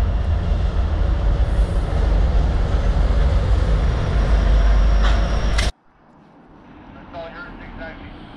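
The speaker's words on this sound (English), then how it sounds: "a train is coming in from the Kingston subdivision" Freight train arriving on the Kingston subdivision in Ontario, a loud close rolling roar of wheels and cars that cuts off abruptly, followed by a quieter rumble with faint metallic squeals.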